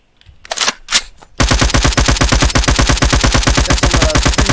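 Rapid automatic gunfire from the ATF Mirage in a video game fires a fast, steady stream of sharp, loud shots that runs continuously after a few brief bursts at the start.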